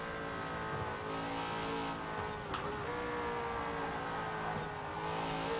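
Vintage Ford Mustang engine in Forza Horizon 4, an old manual-steering American muscle car droning at steady high revs, a continuous buzzing tone that holds nearly constant, with a brief bump midway and no talk.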